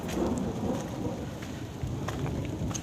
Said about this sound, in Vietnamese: Mọi người có thể là thấy và có thể nghe thấy tiếng mưa đúng không? Và tiếng sấm sét đổ ùm.